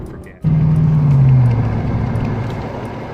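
A car drives along a road, giving a steady, fairly loud engine and road rumble that swells just after the start and then eases slightly, heard from inside the vehicle.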